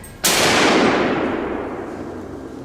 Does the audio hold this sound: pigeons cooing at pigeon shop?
no